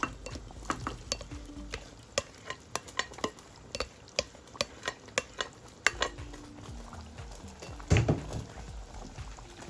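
Peppers and onions for a liver sauce are stirred in a pan, with a quick run of rhythmic spoon clicks against the metal over a gentle sizzle, then a louder clatter near the end.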